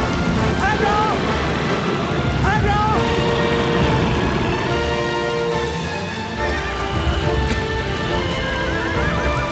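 Horses whinny several times over steady clip-clopping hooves in the video game Shadow of the Colossus, with a person talking loudly throughout and a rumbling engine-like noise underneath.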